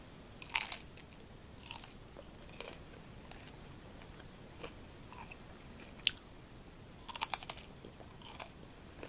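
A homemade potato chip is bitten and chewed, giving a few sharp, close crunches spread unevenly between quieter stretches of chewing, with no talking over them.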